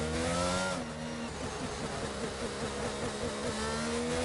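Racing car engine in a racing video game screaming near maximum revs down a straight with DRS open, a steady high-pitched whine with shifting harmonics, loud and alone without talk.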